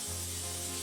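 A brief hissing spray from an aerosol can of cooking spray onto a sheet pan, close and short, over a low steady hum.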